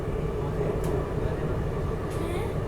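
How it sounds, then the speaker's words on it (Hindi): Steady low rumbling as a local train and an intercity train cross on Indian railway tracks, a constant heavy roar with faint rattling, no clear voices. "एक लोकल ट्रेन है और एक कोई इंटरसिटी ट्रेन के साथ भी क्रॉसिंग हो रही है"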